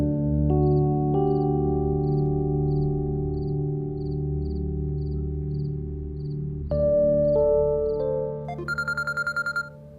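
A phone ringtone plays as a short repeating electronic melody over a steady low hum, with a brighter, busier burst of tones near the end.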